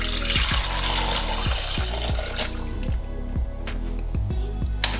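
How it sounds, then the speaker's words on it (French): Water, 500 g of it, streams steadily into a soup maker's jug, with a continuous pouring rush and a sequence of bubbly, dripping gurgles that thin out toward the end; close and fairly loud. "vous rajoutez dans le robot les 500 g d'eau"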